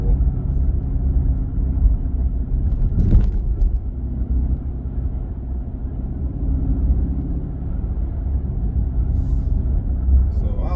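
A 2023 Chrysler 300C with the 6.4-liter HEMI V8 drives at a steady cruise, its deep engine rumble and road noise continuous and close throughout, with someone talking over it.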